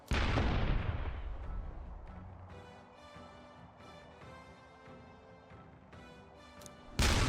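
In Metaphor ReFantazio, a heavy boom opens and decays over a couple of seconds, leaving a quieter stretch with a faint tonal bed, then another sharp blast hits at the end.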